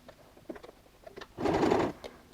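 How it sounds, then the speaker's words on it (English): A sewing machine runs a short burst of long edge stitching on a quilted messenger bag, close and fairly quiet, with light handling clicks before and after. "we're going to go and sew an edge stitch"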